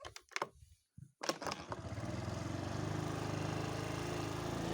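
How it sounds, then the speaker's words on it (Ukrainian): A Sym Mio 50 4-stroke scooter is kick-started: a few sharp kicks and clatter, then the engine catches and settles into a steady, close putter alone. "З лапки він також запускається прекрасно."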